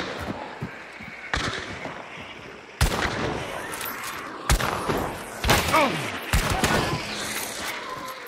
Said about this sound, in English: two easy shots and then some random crazy headshot